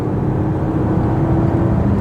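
A BMW X6 with a 3-liter six-cylinder diesel engine runs quietly, giving a steady, smooth low hum that holds even throughout with no revving or talk.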